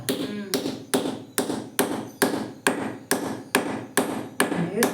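Hammer striking the axle peg of a traditional grinding stone to tighten it, about a dozen sharp, evenly spaced blows close by, with a voice faintly underneath.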